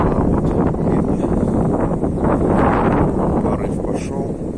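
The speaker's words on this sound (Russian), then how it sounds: "Ну, сейчас ветер дует вот так." Wind at about 6 m/s gusting across a homemade solar tracker outdoors, a loud continuous buffeting rumble on the microphone that swells mid-way, with someone talking throughout.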